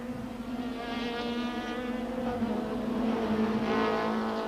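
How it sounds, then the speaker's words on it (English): Several 1995 Super Touring race cars, Audis among them, climb toward West Bank at Kyalami with a steady, layered engine drone from multiple cars at moderate distance, their tones rising slightly as they pass. "Mike White is sandwiched between two Audis on the climb up to West Bank."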